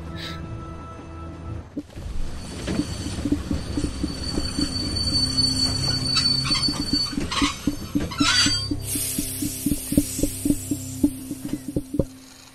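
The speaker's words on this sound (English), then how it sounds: "Train stopped." A train in The Walking Dead game rumbles and clatters with rhythmic wheel clicks. Loud metallic squeals grow louder as it grinds to a halt, with no voices over it.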